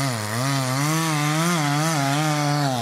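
A chainsaw cuts steadily to fell a large tree outdoors, its loud, close engine note wavering slightly in pitch as the bar works through the wood, with no talk over it.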